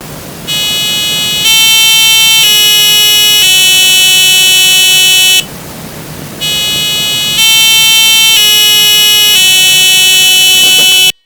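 Square-wave tones from a micro:bit board, a steady buzzy sequence of pitched beeps stepping between three volume levels, loud and harsh with a brief quieter gap, no voices.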